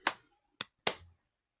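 Three sharp hand claps for a group vote during a tabletop role-playing session: one clap, a short pause, then two more close together, isolated against silence.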